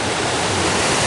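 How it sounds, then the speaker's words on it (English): A three-tier waterfall in Dabanggre village, West Garo Hills, Meghalaya, pours over big stone in a continuous loud, close rushing roar with no voices. "The water is flowing from the stream to this big stone"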